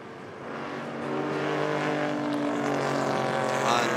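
Historic race car passing through the Porsche curves at the Le Mans Classic, its engine note building from a distant rise into a sustained loud, steady roar as it goes by.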